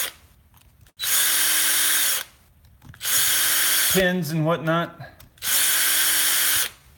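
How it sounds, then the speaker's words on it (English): A cordless drill clears leftover plastic out of holes in three loud, steady whirring bursts of about a second each, with someone speaking briefly between them. "What drill? Just a cordless drill."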